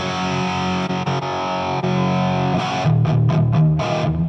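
Distorted electric guitar played through a Marshall JMD:1 amp, chords ringing steadily and loud before heavier palm-muted chugs and stabs near the end, no talking.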